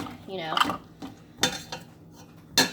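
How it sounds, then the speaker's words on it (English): Chopped celery and onion drop into a soup pot for chicken, corn and poblano soup, giving a few scattered clinks and knocks of utensil against metal pot, with a voice speaking faintly in between. "I am going to go ahead and put this celery and onion in here"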